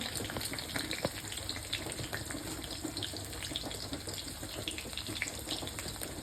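Quiet, steady sizzling and crackling of chilies and curry leaves frying in hot oil, with small pops scattered throughout.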